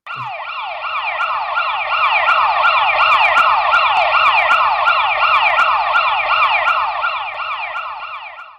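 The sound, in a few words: ambulance siren with rising pitch, Doppler effect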